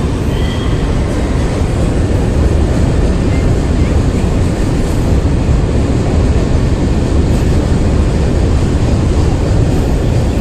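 A train rumbles past on the railway, a loud, steady roar that holds for the whole stretch without fading.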